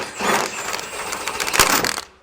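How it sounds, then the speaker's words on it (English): Upper shock bolt being worked loose on a Jeep: a ratchet-like series of quick metallic clicks and scrapes with one sharp clack, close and moderately quiet, no talking. "I'm going to remove this upper shock bolt."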